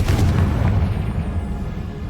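A Confringo spell explosion from Hogwarts Legacy lands as a loud, deep boom that rumbles and fades over about two seconds.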